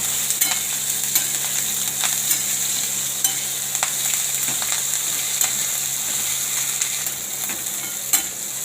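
Green chillies roasting in a hot pan for sabudana vada, giving a steady, close frying sizzle with faint scraping stirs throughout and no talking.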